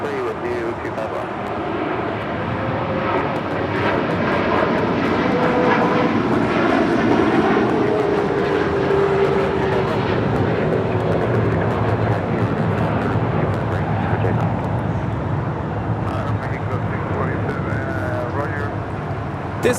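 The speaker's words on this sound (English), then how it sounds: "742 taking off to Doha on the A350 1000" A Qatar Airways Airbus A350-1000 taking off at LAX, with sustained loud engine roar and rumble that swells and then eases slightly as it departs, and people talking beneath it.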